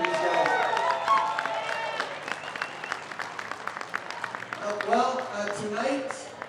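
A rodeo arena audience breaks into loud applause and cheering, sustained clapping from a large crowd while a voice carries over the noise.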